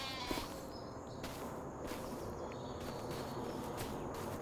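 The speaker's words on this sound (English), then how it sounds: "In here, we have another sheep paddock." Sheep bleat now and then in a farm paddock, moderately distant over a steady wash of outdoor background noise, with no talking.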